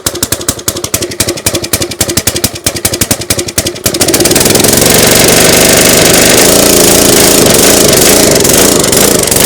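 The small engine of a 20-ton log splitter, just choked, first sputters in rapid uneven pops and then catches, settling into a loud, steady, close running drone that carries on to the end.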